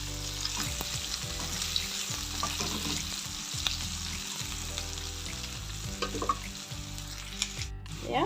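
Onions, garlic and ginger fry in a pan for an Assamese fish curry with spinach, a steady close sizzle with crackles and the scrape of stirring throughout.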